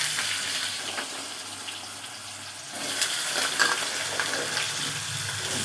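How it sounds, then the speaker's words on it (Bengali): Potato and pointed gourd pieces are dropped into hot oil seasoned with five-spice and dried chilli, and a steady close sizzle swells louder partway through, with no talking. "এবার একটু পাঁচফোড়ন, এবার পটল আলুগুলো এক এক করে ছেড়ে দেবো।"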